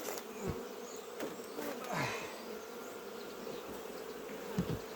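Honey bees buzz around beehives at an apiary in a cold April, a steady close hum with insects passing nearby and occasional thumps, no talking.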